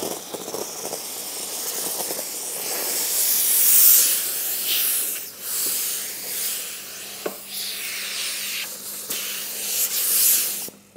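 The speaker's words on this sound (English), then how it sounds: "I'm going to clean this glass up just using steam and two microfiber cloths." Steam cleaner hissing against car glass inside a vehicle interior, a steady close spray with bursts swelling and easing over about eleven seconds, no voices.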